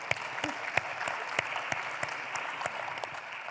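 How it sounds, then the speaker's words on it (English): Steady applause from a conference audience at a policy event honoring first ladies, dense clapping throughout with a few sharper individual claps standing out, moderately distant and continuous. "I think we can clap"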